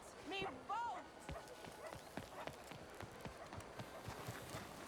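Horse hooves clop at a steady gallop in Red Dead Redemption 2, a run of sharp repeated hits near and clear, with a brief whinny and spoken voices early on.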